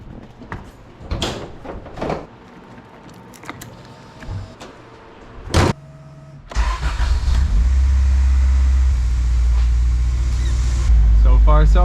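Nissan 240SX on a test drive, with a steady low engine and road rumble building after a few door and handling thumps, loud and continuous through the latter half.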